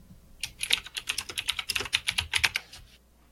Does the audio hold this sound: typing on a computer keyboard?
yes